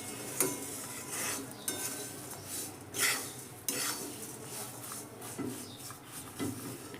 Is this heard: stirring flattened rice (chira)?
yes